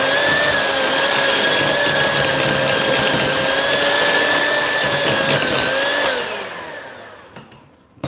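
An electric mixer, either a KitchenAid stand mixer or a hand mixer, beats cream cheese with granulated sugar, giving a steady, loud motor whir for about six seconds before it winds down and stops.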